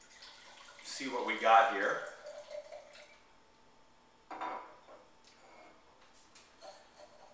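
Greek white wine from Sparta poured into a glass: a brief, close splashing gurgle, then a few faint glass clinks, with someone speaking briefly.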